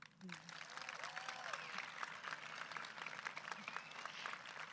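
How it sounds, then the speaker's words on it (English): Graduation audience at a university school ceremony applauding, a steady dense wash of clapping from a large crowd that holds throughout, with some murmuring voices mixed in. "You may applaud now."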